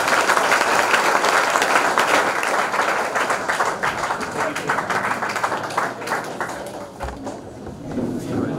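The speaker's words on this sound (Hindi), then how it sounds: "आप सभी तालियों से उनका स्वागत करें" Students applaud to welcome the chief guest at a Kargil Din college ceremony, a dense sustained roomful of clapping that stays loud throughout and thins slightly near the end, with a few voices mixed in.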